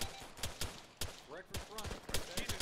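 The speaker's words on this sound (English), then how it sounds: "Well, that seems like an auto cannon." Autocannon fire in the military video game ArmA III comes as repeated heavy thuds spaced through the clip, mid-distance, with brief voices over radio chatter in between.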